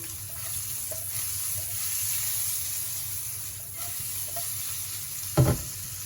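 Paneer cooks in a frying pan over a steady, moderate sizzle with soft stirring noises, then a single sharp knock or clatter as the pan is tossed near the end.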